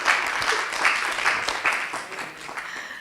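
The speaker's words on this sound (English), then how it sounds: "Big round of applause for Nancy" Audience applause at a university alumni talk, a steady wash of clapping from a crowd that holds for a few seconds and then thins and softens toward the end.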